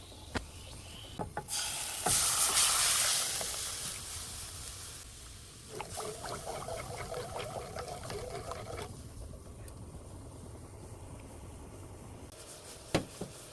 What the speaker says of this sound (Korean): 이제 팬에 부어서 팔팔 끓여줄 거예요